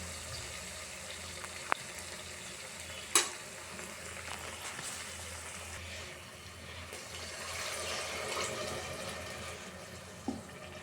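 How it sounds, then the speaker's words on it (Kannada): Water goes into a pan of frying masala for chicken curry, bringing a soft steady sizzle and bubbling with a few sharp clinks of utensils, fairly quiet and with no talking. "ಇದೆಲ್ಲ ಚೆನ್ನಾಗಿ ಫ್ರೈ ಆದಮೇಲೆ ಸ್ವಲ್ಪ ನೀರು ಹಾಕ್ಕೊಳ್ಳಿ."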